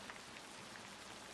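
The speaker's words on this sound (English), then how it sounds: "Rain hisses, then deepens overhead," Steady rain pattering on the roof of a night train crossing the Alps, a soft continuous hiss of drops heard from inside, faint and even with no voices.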